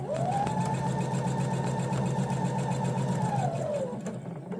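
Sewing machine running a straight quilt seam, a steady close whirring hum that holds for about four seconds and then winds down to a stop, with no talking.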